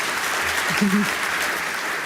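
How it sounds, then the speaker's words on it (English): A crowd at a talk on Gaza and the Middle East applauds its speakers with a sustained, even clatter of many hands, and a brief voice sounds faintly beneath it. "Give them a very warm round of applause."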